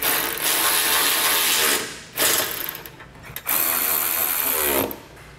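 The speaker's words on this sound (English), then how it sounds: "We'll then snug that up with our 10 millimeter socket." A ratchet with a 10 mm socket snugs up a bolt on a base plate kit being fitted to a 2019 Ford Fiesta, rapid close clicking in three bursts separated by brief pauses.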